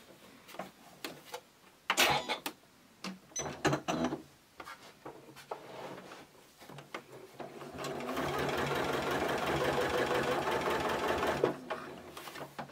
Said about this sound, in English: we are just going to top stitch round as close to the edge as possible with our sewing machine